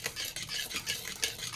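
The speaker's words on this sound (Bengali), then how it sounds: "এর মধ্যে আমি অল্প অল্প করে ময়দা অ্যাড করব। আর মিক্সড করতে থাকবো।" Flour is stirred into vanilla cake batter in a bowl, giving steady close scraping and stirring strokes with a light clink of utensil on the bowl, and no voices.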